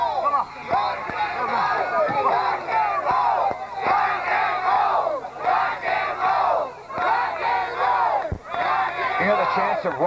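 Wrestling crowd at a New Dimension Wrestling event in Concord, NC, roaring and chanting in loud, dense rhythmic waves of voices that fill the whole stretch, with brief dips between surges.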